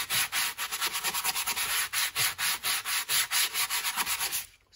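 Close, quick strokes of a sanding block rasp back and forth over paper decoupaged onto a craft surface, a steady scratchy rhythm of many short passes with no voices.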